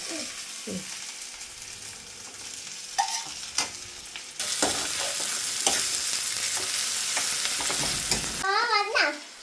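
Kilimeen fish curry in a pan gets stirred with a spoon, scattered scrapes and clinks over a low sizzle that swells into a louder steady hiss halfway through, with a few faint vocal sounds near the end.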